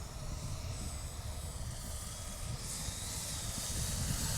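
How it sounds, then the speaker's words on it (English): Steady wind blowing across an open flying field where a small Hobbyking Auto G2 V2 model gyrocopter is being flown, a continuous broadband rush with low gusty rumble, close to the microphone and with no talking. "Got a little bit of wind here."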